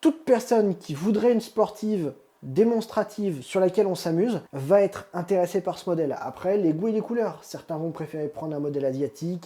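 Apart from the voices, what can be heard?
None of the usual background noises is heard.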